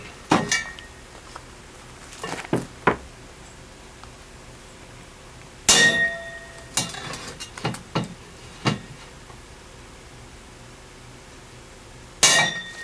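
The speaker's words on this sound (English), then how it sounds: "Take a center punch to each of these holes." Sharp metallic taps ring out in small clusters, separated by quiet pauses, close and crisp as a center punch is struck with a hammer on copper held in a vise with brass face plates.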